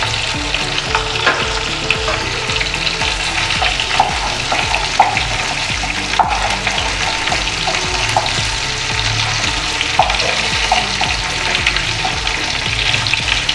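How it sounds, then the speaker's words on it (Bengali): Cumin seeds and two bay leaves crackle in hot oil alongside frying potato and cauliflower, a steady close sizzle broken by repeated spatula scrapes and stirring across the pan. "এটার সাথে আবার একটু ভাজা ভাজা হোক"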